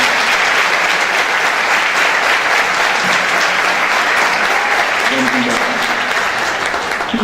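A church congregation applauds during an evening worship service, loud sustained clapping from a large crowd lasting several seconds, with faint voices and a few sung or spoken tones emerging under it toward the end.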